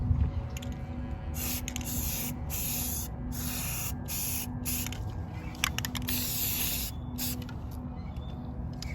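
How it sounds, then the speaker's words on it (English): Repeated bursts of aerosol spray hissing close by, short and long blasts with brief pauses between, over a steady background hum. "Another thing I like about spray paint is that it dries so super quickly."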